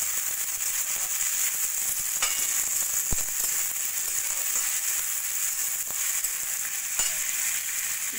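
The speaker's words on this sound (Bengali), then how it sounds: "এবার দিয়ে দেবো আমি কিছুটা ক্যাপসিকাম আর 2টো স্প্রিং অনিয়ন টুকরো টুকরো করে কেটে নেওয়া, দিয়ে একটু ভাজা ভাজা করে নেব।" Chopped capsicum and spring onion frying in a pan for chilli potato, a steady close sizzle of hot oil with occasional faint taps of a stirring utensil.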